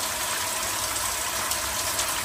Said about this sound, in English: So that's how we shower out here on the trail.